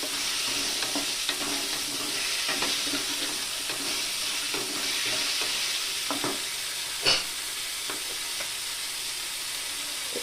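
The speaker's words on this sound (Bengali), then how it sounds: "ডাটাটা দিয়ে এভাবে একটু নেড়ে চেড়ে দিতে হবে দেখুন" Malabar spinach stalks fry in a pan with a continuous close hiss and sizzle, broken by soft scraping stirs and one louder clack of the spoon.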